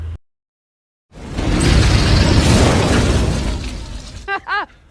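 A car explodes after being hit by a bazooka shot in a film: after a moment of silence comes a loud, sustained crashing blast with shattering debris that fades over a few seconds, followed by brief voices.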